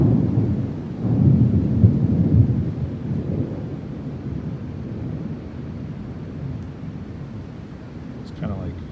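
Low rumbling thunder rolls through during a storm in Pensacola, swelling early and then fading into a steady wind-buffeted outdoor hush, fairly distant.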